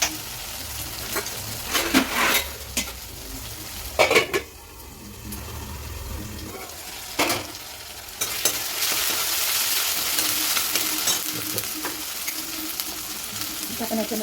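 Chillies and ginger-garlic paste fry and sizzle in a pan for Maharashtrian pumpkin bhaji, with steady close sizzling broken by several sharp stirring and utensil clatters.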